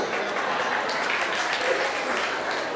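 Audience at a Maharana Pratap Jayanti celebration in Mulund, Mumbai, clapping in a steady, even patter at moderate volume with faint voices mixed in.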